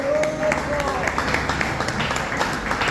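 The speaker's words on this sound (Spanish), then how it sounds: "Den un aplauso al Señor" A church congregation at an evangelistic service breaks into brief applause for the Lord, scattered clapping mixed with a voice speaking over it.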